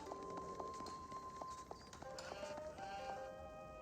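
Sheep bleat in the Age of Empires 4 real-time strategy game: several short, tonal calls sound over busy game ambience, with hoof-like clip-clop beats underneath.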